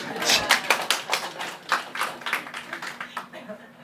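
Clapping from a church congregation during a pastor's sermon, a string of sharp, distinct claps in an irregular rhythm that fade gradually, with talk underneath.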